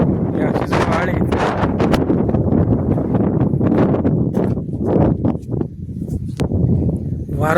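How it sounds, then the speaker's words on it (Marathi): Strong wind blowing in hilly country, roaring and buffeting steadily against the microphone with loud, unbroken gusts throughout. "वारं भरपूर सुटलेले"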